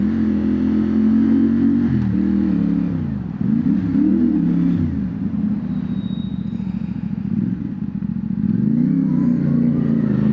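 A motorcycle with notably large wheels is ridden on a morning ride to church and breakfast, its engine drone loud and close throughout, dipping and rising with throttle changes under steady wind rush.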